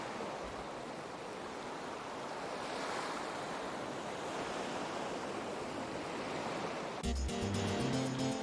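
Ocean surf rolls steadily along the tropical Madora Coast in the Legend of Mana video game, a continuous wash of waves, before bright tropical game music starts near the end.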